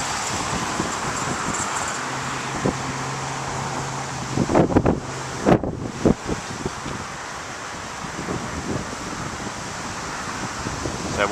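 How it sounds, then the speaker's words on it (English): Strong gusty wind buffeting around a spinning home wind turbine, a steady rushing roar with a low mechanical hum and several sharp bursts of wind hitting the microphone midway. "We're just having an awful winds today where they're going back and forth."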